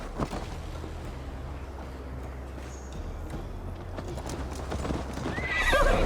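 A horse gallops in Assassin's Creed Valhalla, a steady rhythmic clip-clop of hooves under wind, with a whinny rising near the end.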